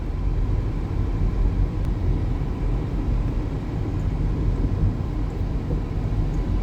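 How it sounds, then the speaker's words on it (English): Inside a 2007 Toyota Highlander on the road, a steady low rumble of tyres and cabin noise continues throughout, with dull thumps as the SUV rolls over hard, harsh bumps. "rattles going over these hard, harsh bumps on the road"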